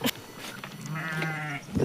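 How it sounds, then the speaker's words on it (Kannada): A single large sheep gives one drawn-out, wavering bleat, clear and close, framed by brief rustling noises at the start and end. "ಇದೊಂದು ದೊಡ್ಡ ಕುರಿ ಸ್ನೇಹಿತರೆ"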